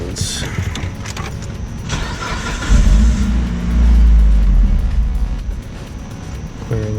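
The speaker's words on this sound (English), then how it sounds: "we're going to crank the vehicle over a few times to make sure there's no fuel in the lines" Mitsubishi Lancer engine cranked over with the fuel pump out, a rough starter churn swelling loudly in the middle and fading, with a voice talking at moments and some clinking nearby.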